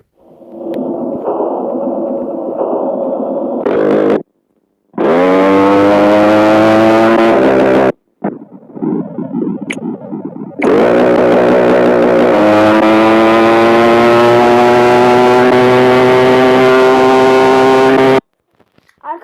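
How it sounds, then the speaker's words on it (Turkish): A loud motorcycle engine in the racing video game Racing Fever: Moto drones and revs in long sustained stretches, its pitch climbing and holding, broken by brief gaps of near silence. "motorun sesini dinleyin sadece"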